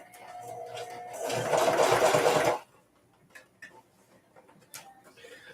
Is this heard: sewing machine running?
yes